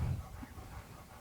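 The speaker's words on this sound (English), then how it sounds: "I apologize about the dog in the background if you can hear her." A dog pants softly and rapidly nearby, a brief breathy rhythm against low background noise.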